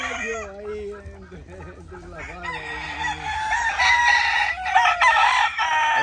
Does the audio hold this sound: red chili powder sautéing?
no